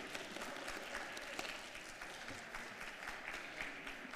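An audience applauds at a BC Achievement Reconciliation Award presentation ceremony, honouring a guitarist after his performance; dense, steady clapping from many hands fills the whole stretch at an even, moderate level with no speech over it.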